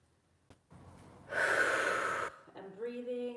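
A single audible breath sharply drawn in and then pushed out through the mouth during a calming shaking exercise, the exhale a loud, airy rush lasting about a second, followed by a soft voiced tone.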